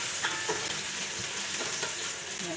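Ginger sizzles and crackles steadily in a hot frying pan, a close, continuous hiss with small pops and faint stirring.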